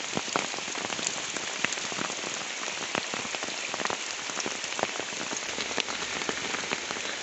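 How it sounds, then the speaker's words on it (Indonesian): Rain falls steadily on a mountain trail, a dense close hiss with scattered sharp drop ticks throughout and no voices. "Cuaca hujan."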